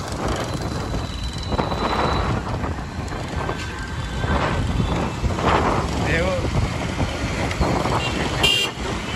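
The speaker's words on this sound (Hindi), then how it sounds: "ट्रैफिक रहता है" Busy Delhi street traffic near metro construction hums throughout with scattered car horns tooting, a clatter of passing vehicles, and voices murmuring in the background.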